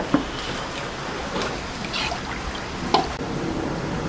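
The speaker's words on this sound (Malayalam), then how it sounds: "ഇനി ഒന്ന് തിളക്കട്ടെ" Beef masala mixture starts to boil in a pot, giving a steady soft hiss of liquid with a few faint bubbling pops and no talk.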